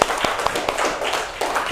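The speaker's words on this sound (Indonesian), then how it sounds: "Tepuk tangan dulu dong." A classroom of elementary pupils clapping their hands together in a brief, steady burst of close, rhythmic claps.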